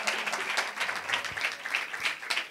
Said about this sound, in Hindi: जोरदार तालियां सिस्टर्स जी के लिए बजाते हैं।